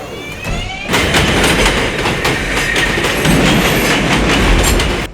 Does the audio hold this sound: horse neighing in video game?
no